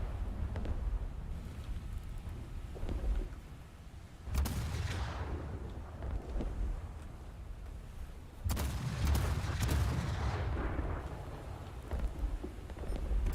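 Tank cannon shots firing high-explosive rounds in the video game War Thunder: two loud, deep booms about four seconds apart, each with a long rumbling tail over a steady low engine drone.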